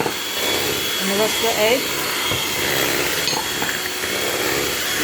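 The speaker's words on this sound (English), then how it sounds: "I'm just going to keep whisking until, I hope you can hear me over the machine" Electric mixer whisking cake batter, a steady close whirring drone that runs through the whole stretch beneath a person talking.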